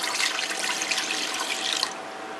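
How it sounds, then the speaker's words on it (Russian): Water is poured off from a cooking pot in a steady, continuous splashing stream for about two seconds, then tapers off; close and fairly loud with no talking. "так что я воды немножко отолью"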